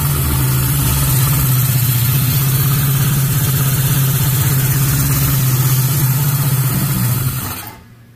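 A 1976 Honda CB750F motorcycle engine runs at a steady, loud, close idle for about seven seconds, then shuts off and fades.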